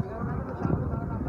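Horse hooves clop on the ground during a trot trial at a horse sale, a soft, fairly close beat with people talking over it.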